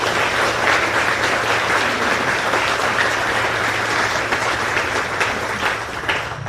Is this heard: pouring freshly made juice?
no